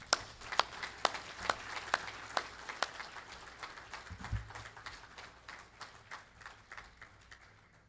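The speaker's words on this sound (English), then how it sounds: "let's all give a round of applause" Applause at an anniversary and awards reception: a series of sharp, distinct claps, fairly quiet and sparse rather than a dense ovation, tapering off toward the end with no voices over it.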